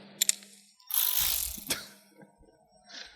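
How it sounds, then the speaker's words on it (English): A cordless ratchet fitted with a 10mm socket, used on a Nissan 370Z tail light install, gives a short burst of whirring and clicking ratchet noise between a few light handling clicks and taps, close by and fairly loud. "Now we're gonna use my handy dandy cordless ratchet, favorite tool in the entire world, and grab a 10mm socket."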